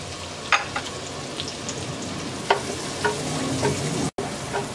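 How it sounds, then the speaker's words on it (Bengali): Chopped ginger, garlic and scallion whites sizzle in hot oil for Bangladeshi chicken fried rice, a steady close frying hiss broken by a few sharp pops and stirring scrapes. "আদা আর রসুন কুচিটাকে 1 মিনিটের মতো ভেজে নেব।"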